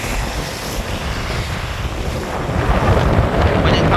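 Strong storm wind buffeting the microphone at Jaffna, with waves breaking nearby, a loud continuous roar that swells toward the end, with no talk over it.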